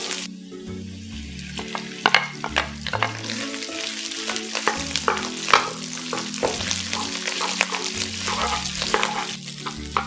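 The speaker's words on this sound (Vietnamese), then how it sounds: "Khi mà hành vàng thơm rồi á thì mình sẽ cho cơm vào." Cooked rice is stir-fried with golden minced shallots in a hot oiled pan for egg fried rice, with a steady crackling sizzle broken by repeated scraping and tossing clatters from a utensil, no talking.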